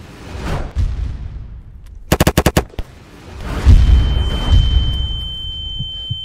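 Ragdoll characters firing heavy weapons in a Unity-built destruction game: scattered thuds, then a tight rapid burst of machine-gun shots, followed by loud rumbling impacts and booms with a lingering ringing tone.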